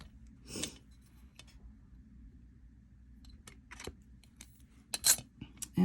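A blade trims a polymer clay flower cane with a few sharp scraping snips and light clicks against a quiet background, the loudest strokes near the start and end.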